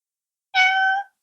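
A house cat lets out a single clear, drawn-out meow in an otherwise quiet room, moderately loud and lasting about half a second.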